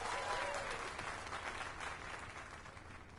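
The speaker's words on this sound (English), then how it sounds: "Let us give a round of applause for young Fulvio" Crowd applause in Dragon's Dogma 2, a dense, steady wash of many hands clapping together for a sculpture unveiling, loud at first and easing slightly over about three seconds, with no voices over it.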